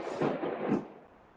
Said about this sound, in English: Heard that? That's thunder right.